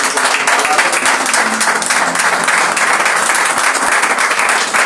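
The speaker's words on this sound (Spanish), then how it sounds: "Vamos a dar un fuerte aplauso al Señor." A church congregation gives the Lord a loud round of applause, dense steady clapping from many hands close by, sustained evenly throughout.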